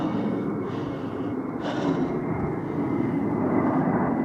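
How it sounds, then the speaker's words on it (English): Fighter jets passing high overhead, a steady broad roar with a faint swell partway through, heard outdoors from the ground with no talking. "fighter aircraft of some type up there."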